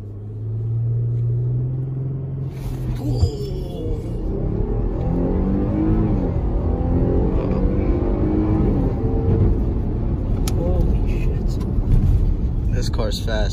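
Jeep Grand Cherokee Limited X in sport mode launching hard, engine revs climbing through several gear changes with a loud, steady roar heard from inside the cabin.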